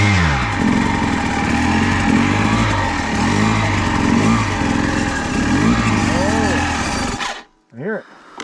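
Panthera Motorsports vehicle with a faulty electric starter, a loud, close, rough engine-like drone with repeated surging, wavering cycles that stops abruptly near the end, followed by brief voices.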